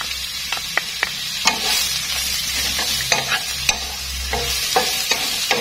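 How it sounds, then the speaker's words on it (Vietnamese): Mushrooms, tofu and scallions are stir-fried in a pan, giving a close, steady sizzle. Sharp utensil clacks and scrapes against the pan recur throughout, with no one speaking. "Xào khoảng 1 đến 2 phút là được."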